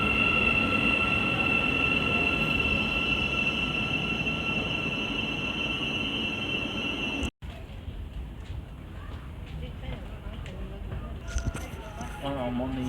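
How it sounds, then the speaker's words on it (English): Train bound for Peterborough pulling into Hitchin station, a loud steady rumble of wheels with high squealing brake and rail tones, then a sudden cut to a quieter carriage interior hum with faint clicks. "Train arriving to go to Peterborough from"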